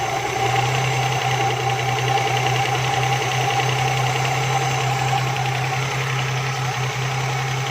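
A car engine idles steadily after its air-fuel mixture has been adjusted, a continuous even hum with a low drone and faint mechanical ticking, close and alone with no talk.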